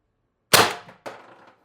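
TR50 Torpedo air rifle fired with an upgraded bolt spring: a single sharp, loud crack followed about half a second later by a second, softer metallic snap, with silence before and after.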